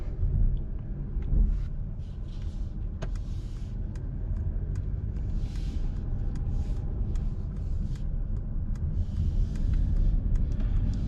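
A Mercedes CLE 300 coupe with a four-cylinder engine cruises at night, a steady low road rumble and cabin drone running throughout with faint ticks and small shifts in tone, no voices present.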